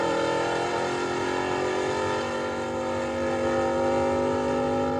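A 1981 NASCAR Grand National stock car engine roars flat out, a loud, sustained, buzzing drone with steady harmonics and no pauses.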